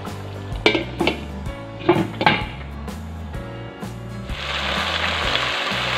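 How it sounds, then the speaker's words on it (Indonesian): Padang-style chicken simmers in a pan while coconut milk reduces, with several metallic clanks and scrapes of a utensil against the pan before a steady, hissing sizzle takes over. "sekarang mau aku masak lagi sampai santannya menyusut"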